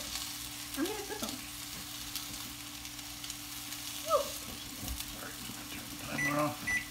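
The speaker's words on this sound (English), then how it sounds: "Meatballs are going. I'm flipping them" Meatballs frying in a pan for sweet and sour meatballs, giving a steady low sizzle with a few brief clinks as they are flipped, while a person talks faintly nearby.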